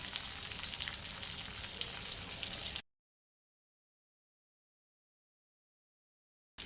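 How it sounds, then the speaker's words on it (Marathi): Crushed green chillies and garlic cloves sautéing in a pan, a dense close sizzle for about three seconds before the sound cuts to silence. "ज्या मी दोन मिरच्या घेतलेल्या होत्या त्या ठेचलेल्या आहेत आणि खूप साऱ्या लसण्याच्या पाकळ्या घेतलेल्या होत्या त्या पण याच्यामध्ये आता मी परतून घेते"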